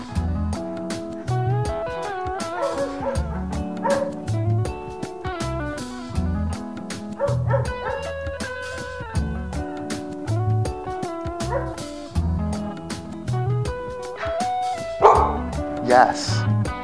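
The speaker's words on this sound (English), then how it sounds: "Now that we've gotten dogs quieted a little bit, hopefully they'll be quiet for the remainder of the session here." Several dogs bark, yip and whine during a training session, with repeated short barks and whimpers mixed under a person talking throughout.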